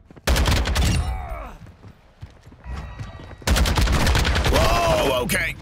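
A Lachmann 762 rifle fires in Modern Warfare 2, loud rapid bursts of automatic shots in two strings separated by a quieter pause with faint game sounds.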